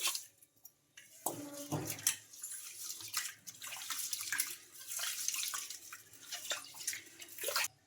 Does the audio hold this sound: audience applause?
no